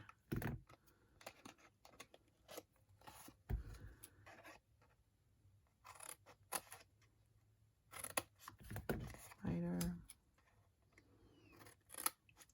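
Scissors snip quietly and up close while cutting paper or card to make a box, giving a series of short, crisp cuts in irregular bursts with soft rustling between them.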